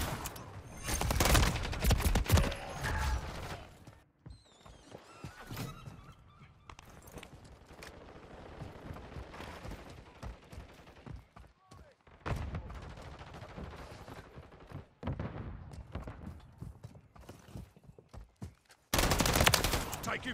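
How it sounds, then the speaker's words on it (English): Bursts of automatic gunfire in a Call of Duty Modern Warfare III multiplayer match, loud rapid volleys at the start and end with scattered shots and rattles between, voices calling out among the firing. "Taking fire over here!"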